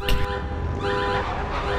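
A car horn honks in the APB Reloaded video game, a steady blaring tone held through most of the moment, loud and alone with game traffic noise underneath.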